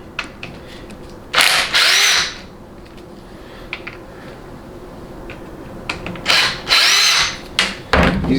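A power driver spins out Torx 30 bolts from a Dodge 48RE automatic transmission during teardown, several short loud whirring bursts separated by quiet pauses and light clinks.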